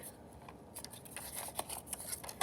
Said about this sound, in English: I'm going to fold it, making sure I'm folding it to where it is lined up straight with the other parts.